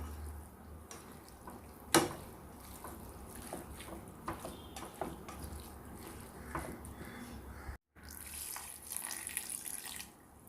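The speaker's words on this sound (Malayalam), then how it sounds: "എന്നാലും ഒരു അല്പം വെള്ളം നമുക്ക് ചേർത്ത് കൊടുക്കാം." Water from rinsing a mixer jar is poured into a Kerala-style squid and coconut stir-fry mixture, a close, soft splashing trickle with a brief knock and a short pause partway through.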